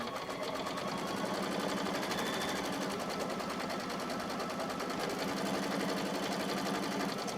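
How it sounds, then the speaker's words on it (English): An embroidery machine stitches the placement line for an in-the-hoop quilted appliqué placemat, a fast, even mechanical whir and needle clatter running continuously and close without a break, no talk. "And so it does the placement line"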